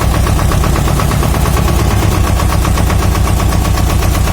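An Ursus C-330 tractor's diesel engine runs just after a cold start at minus seven degrees in a garage, with a loud, close, rapid, even knocking chug that holds steady throughout.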